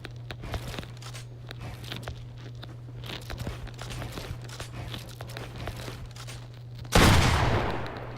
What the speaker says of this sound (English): trying to shoot the targets that are on the other side